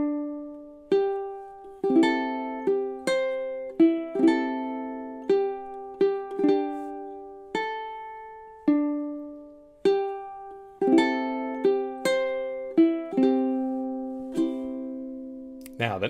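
Bars 9 to 12 of O Holy Night played on ukulele: clear plucked notes and strummed chords ring out one after another at a slow, even pace, each decaying before the next, close and alone.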